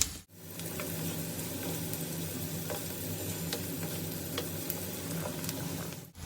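Chopped onions frying in oil in a pan for Khandeshi bharit, a brinjal dish, giving a dense, continuous close sizzle with faint scraping of stirring throughout.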